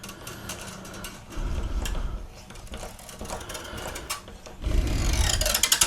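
Acoustic guitar string being wound onto a tuning peg, a close, busy run of small mechanical clicks and rubbing with louder low rumbling bursts, no talking.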